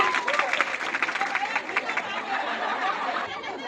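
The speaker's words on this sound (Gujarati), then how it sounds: "ચલો મોનાબેન માટે જોરદાર તાળીયા." Applause from a women's audience at a Women's Day gathering run by a women's association, a dense continuous clatter of many hands with scattered chuckles and chatter mixed in throughout.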